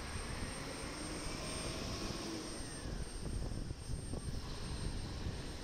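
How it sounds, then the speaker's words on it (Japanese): A JAL airliner landing at Osaka Itami Airport gives a steady, broad jet-engine roar heard from a distance, holding constant with a slight swell toward the end. "着陸機が来ました。"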